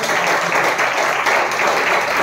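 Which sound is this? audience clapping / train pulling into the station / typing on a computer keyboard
audience clapping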